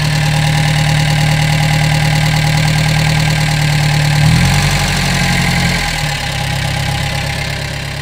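A Gehl 3510 skid steer engine idles steadily and close by, its low rumble dipping briefly as the idle speed is turned down.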